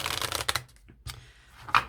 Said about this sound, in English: I wanted to do a shuffle and maybe pull a card